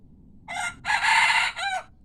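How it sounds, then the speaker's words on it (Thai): A single young rooster crows nearby, a loud, clear, drawn-out call in several segments, with quiet background. "ล่อยให้เขาขันก่อนนะครับ เราฟังเสียงกันนะครับ"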